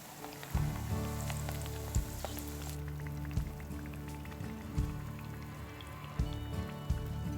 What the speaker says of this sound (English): fry the potato rings until they are a beautiful golden brown